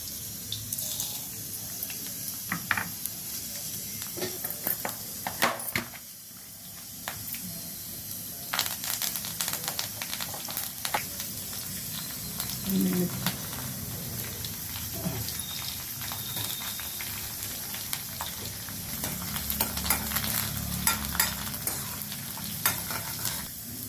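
Spices sizzle and crackle in hot oil for a tempering, poured over a pickle, with scattered pops and spoon clinks over a steady frying hiss and some faint splashing of water nearby.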